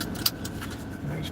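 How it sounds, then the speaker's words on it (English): A Porsche drives past on a busy street during a street party, a brief, fairly soft engine whoosh set against crowd noise and a faint jingle. "Nice Porsche."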